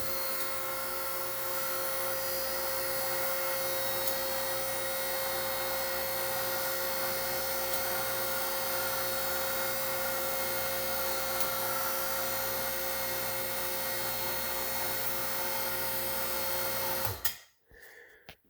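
Car lift at a Ford dealership shop motoring a vehicle up after an engine installation, a steady close electric-hydraulic whine and hum running unbroken for about seventeen seconds before stopping with a clunk.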